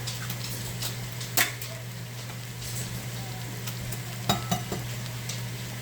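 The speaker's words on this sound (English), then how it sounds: "Are you sure you don't want a fried egg for dinner? Cook our new egg." Egg frying in a pan, a steady low sizzle under occasional sharp clicks and taps of a utensil against the pan, close and moderately quiet.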